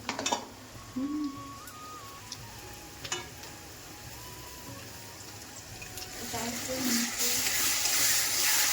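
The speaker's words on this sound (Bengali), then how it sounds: "মশলাটা ভালো করে কষে নিই" Ground spice paste hits a pan of fried onion and green chilli, a soft frying hiss that swells into a louder, denser sizzle toward the end, with faint voices and hum early on.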